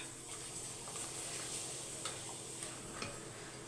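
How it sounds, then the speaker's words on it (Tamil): Appalam papadums fry one at a time in hot oil for a special home-cooked memorial meal, giving a steady, close sizzling hiss with occasional small ticks and crackles, and no voices. "எண்ணெயில் அப்பளத்தை ஒன்று ஒன்றா பொறிச்சு எடுத்துடலாம்"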